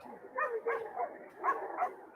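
A police dog barks in a short series of four or five muffled, somewhat distant woofs during an arrest, with no talking.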